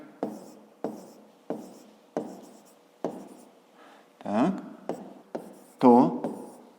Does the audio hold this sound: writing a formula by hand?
yes